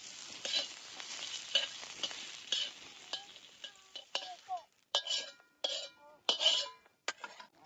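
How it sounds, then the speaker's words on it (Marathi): Garlic, cinnamon and star anise roast in oil in a pan, with a steady sizzle broken by repeated scraping stirs and light clinks of a utensil against the metal, close and moderately loud. "लसणाची एक कुडी सोलून घेतलेली, दालचीन आणि चक्री फूल ते त्याच्यात भाजून घेणार आहे"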